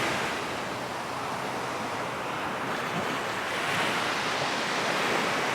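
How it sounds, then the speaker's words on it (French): Ocean waves breaking on a shore make a continuous, full wash of surf that swells slightly toward the end, with some wind rumble and no voices. "dans le mouvement des vagues."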